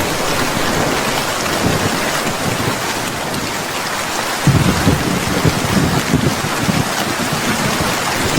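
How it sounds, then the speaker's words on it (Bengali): Heavy rain pours steadily in a Bangla cartoon village scene, a dense, loud, continuous wash of drops that swells even heavier about halfway through, with no voices. "দেখো বাইরে কি সুন্দর ঝুম বৃষ্টি শুরু হয়েছে"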